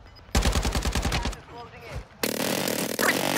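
A fast burst of automatic gunfire from Warzone rattles out in rapid, evenly spaced shots, followed by a brief lull and then a harsher, louder wash of firing and game noise.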